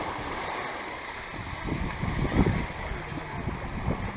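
Ocean waves washing onto Chapin Beach on Cape Cod, a soft, steady wash of surf with a gentle swell building midway, mixed with light wind buffeting the microphone, and no talking.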